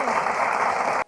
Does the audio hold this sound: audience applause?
yes